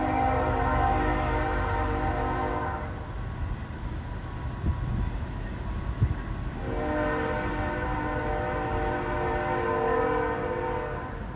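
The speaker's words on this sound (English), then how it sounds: "Man, that train, it's always interrupting me all the time." A train rumbles past close by while its horn blasts in two long, loud tones with a gap between them.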